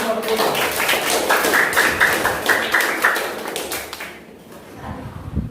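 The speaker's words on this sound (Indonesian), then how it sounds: "kita beri tepuk tangan dulu" Classroom applause from students in a lesson on Indonesia's natural resources; a burst of rapid, dense clapping from a group that gradually thins out and fades toward the end.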